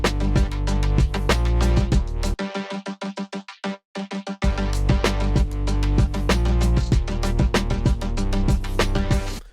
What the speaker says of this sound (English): Bouncy Vocoder sounds like this.